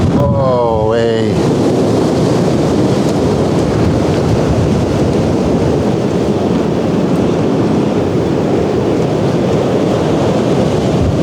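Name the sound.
storm with thunder, wind and rain on a van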